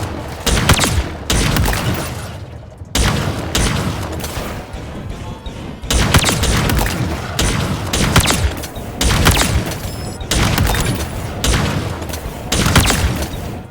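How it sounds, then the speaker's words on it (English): The Heat Wave weapon fires in Halo Infinite, loud and close, in repeated heavy volleys separated by brief gaps, each burst a dense blast of energy shots, with no talking over them. "Another very cool weapon is the Heat Wave"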